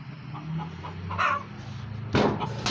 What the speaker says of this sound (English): This one's a broody. Listen to her. She's all broody.